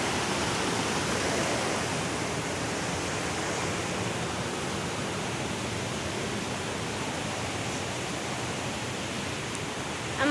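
A powerful waterfall roars in a jungle setting near a river crossing, a dense, steady, loud rush of falling water that fills the whole stretch without pause.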